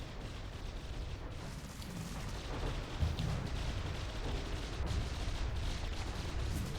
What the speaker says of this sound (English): We just have anti-missiles. Let's see if we can watch them launching.